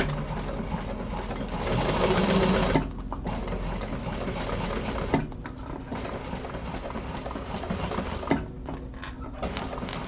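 A sewing machine stitches steadily along the raw edges of fabric, running a back stitch with a dense, continuous mechanical whir. It sounds close and loud, briefly heavier near the start, and no one speaks.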